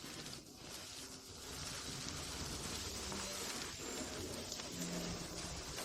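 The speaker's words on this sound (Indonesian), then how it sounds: "Aduh, hujan sebesar ini." Heavy rain falls in a steady, dense hiss close by, with a faint dip in level near the start and a constant wash after that, and no voices.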